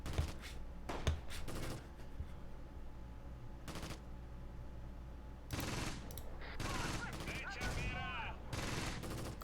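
Rapid crackling gunfire from the WWII strategy game Close Combat: Gateway to Caen, a multiplayer battle on the Steel Graveyard map: sharp bursts of shots and automatic fire break out repeatedly over a steady low battle rumble, with a loud volley near the end.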